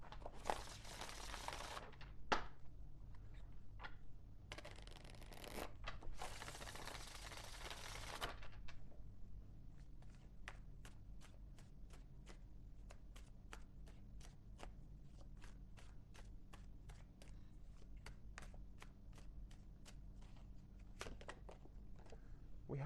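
Oracle cards being handled and shuffled: a few bursts of close papery riffling early on, then a long run of light, rapid ticking flicks.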